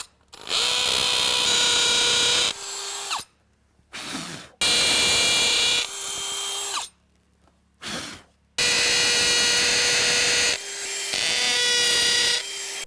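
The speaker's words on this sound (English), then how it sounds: "Okay, now I can continue drilling these holes." A power drill bores holes to secure a replacement exterior door threshold, running in several loud, steady bursts separated by short pauses, with no talking.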